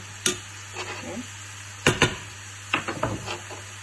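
Mushrooms cooking in a pan with their water nearly absorbed, giving bursts of spitting and sputtering along with a few stirring scrapes and clinks over a steady background hum.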